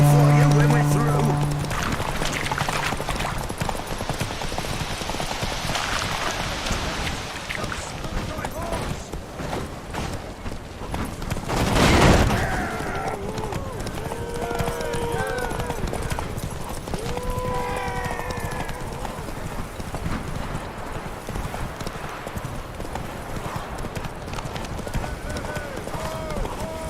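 Roach the horse gallops in The Witcher 3 during a race, hooves clip-clopping in a steady rapid rhythm throughout, with game voices talking over it and a brief loud burst midway.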